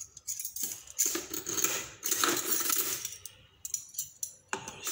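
Metal utensils clink and clatter as a spoon is set down, several sharp light taps and scrapes in quick succession, close by.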